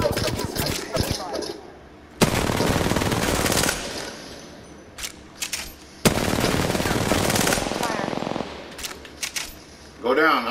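Bursts of automatic gunfire in Apex Legends, two long loud volleys with shorter scattered shots between them, close and punchy, with a voice speaking briefly in the gaps.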